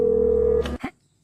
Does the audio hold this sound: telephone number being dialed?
yes